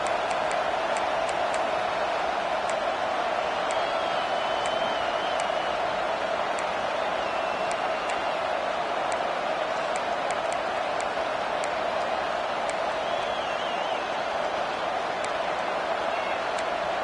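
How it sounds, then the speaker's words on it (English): A stadium crowd at a football game during a defensive timeout makes a steady, broad roar of cheering and murmur that holds evenly throughout, with faint clicking ticks scattered on top and a commentator's voice partly audible. "Listen to the crowd energy here in the early going."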